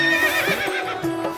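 A cartoon horse lets out a loud, close whinny, a single wavering neigh lasting over a second, alone with no talk.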